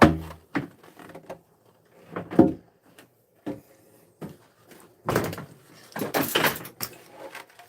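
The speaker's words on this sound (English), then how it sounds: "Freaking door opens and shuts" A stuck studio door being worked open and shut, giving a series of knocks, thumps and a louder cluster of rattling bangs near the end, close and without speech.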